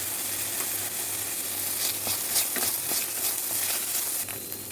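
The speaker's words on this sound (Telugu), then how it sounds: "పచ్చిమిరపకాయలు వేసిన తర్వాత 1 కప్పు బఠానీ కూడా వేసి వేయించాలి." Green chillies and a cup of peas frying in a pan, a steady loud sizzle with brief crackling bursts as they are stirred, dropping slightly near the end, no voices.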